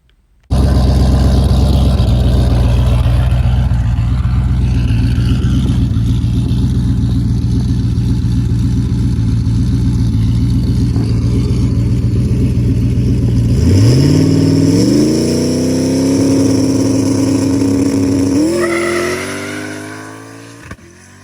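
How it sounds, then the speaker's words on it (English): A no-prep drag car makes a hot launch pass on an unprepped dirt road, its engine building into a loud sustained roar with the tires spinning. Near the end it climbs through rising revs and gear changes, then fades. "So we kind of put the tires up in smoke a little on this first pass"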